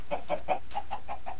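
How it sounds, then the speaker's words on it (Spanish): A chicken in the video game Oasis clucks in a quick run of about seven short, even pulses, close and moderately loud with no talk over it. "Está loco ese pollo, ¿eh?"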